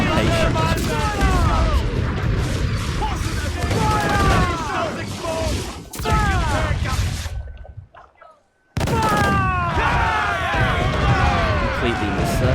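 Mortar fire in the Assassin's Creed Black Flag video game, repeated heavy booms and crashing blasts in a dense naval battle, with shrill whistling streaks and a brief lull before the barrage resumes.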